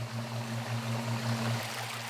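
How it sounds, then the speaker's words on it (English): A waterfall spills into a backyard koi pond, making a steady, soft rushing wash of water over a constant low hum. "And we added a waterfall."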